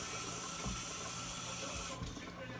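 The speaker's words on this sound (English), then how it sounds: "And I'm washing my hands" Hands being washed under a running tap, a steady close rushing of water that holds evenly and eases slightly toward the end, with no talking.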